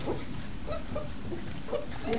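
Several White Shepherd puppies whimper and yip softly indoors in a living room, brief high cries scattered over a steady background hum.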